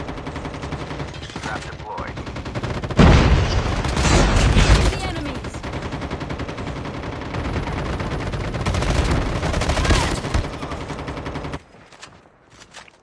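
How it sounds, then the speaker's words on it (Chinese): Rapid bursts of automatic gunfire from the mobile shooter Call of Duty Mobile, loud and sustained in several volleys, with a few players' voices talking between and over the shooting. "我到一半继续开枪。"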